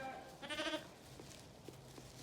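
A lamb or sheep in a small flock being rounded up gives one short, faint bleat, followed by quiet rustling and light thuds, with no talking.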